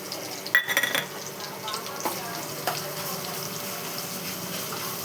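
Ginger and turmeric fry in a pan with a steady close sizzle, broken by a few sharp clinks of a spoon against the metal early on.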